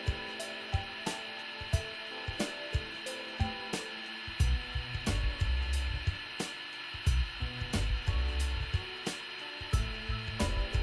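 A heat gun blows a steady, airy hiss while drying resin on a loudspeaker voice coil, overlaid with repeated sharp clicks and intermittent low rumbling bursts from nearby handling.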